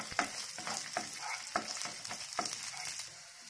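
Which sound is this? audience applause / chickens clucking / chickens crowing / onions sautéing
onions sautéing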